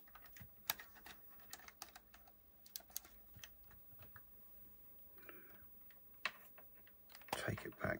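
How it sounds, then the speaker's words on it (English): Memory card being pushed into a Sony PSP handheld: a scatter of faint, close plastic clicks and small handling noises, ending in a brief louder scraping rustle. "Let's put another memory card in."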